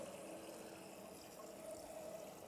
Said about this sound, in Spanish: vamos a echar aproximadamente pues, medio litro de agua